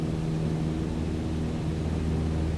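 Steady, droning Cessna 152 piston engine hum from inside the cockpit in Microsoft Flight Simulator, a constant low rumble with no breaks, flying from Antigua to Montserrat.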